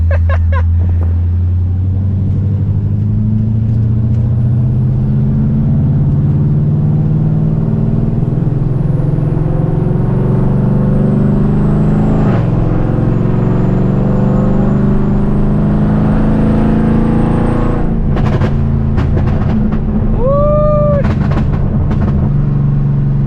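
A 700 hp nitrous Dodge Charger 392 Scat Pack V8 drones loudly and steadily, rising slightly in pitch, with a sharper rev surge near the end and no talking.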